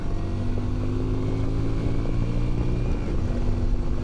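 Yamaha Virago 250 motorcycle engine pulling steadily under way in gear, a loud, continuous droning hum that holds close and even throughout, with a small shift partway through.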